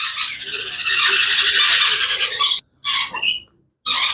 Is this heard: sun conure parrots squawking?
yes